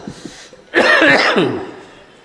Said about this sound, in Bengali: কাশিটা বন্ধই হচ্ছে না